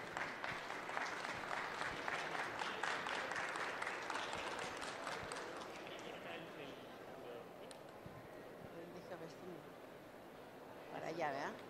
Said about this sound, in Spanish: Un aplauso, por favor, a Nelly Guevara